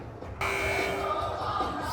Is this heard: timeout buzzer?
yes